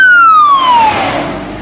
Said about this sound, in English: No, here we got the fire department.